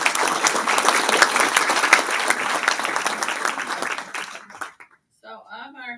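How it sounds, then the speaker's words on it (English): Club dinner audience clapping for members just named, a steady dense patter of many hands that fades out, followed by a brief voice at the end. "I'll just read them all and then we can clap."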